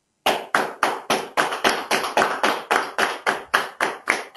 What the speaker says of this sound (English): Big round of applause for Surbhi Shah